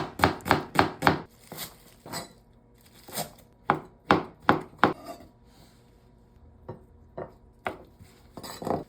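A knife chops vegetables for japchae (Korean glass noodles) rapidly on a cutting board in quick bursts of sharp, close knocks, pausing briefly between runs, with no talking.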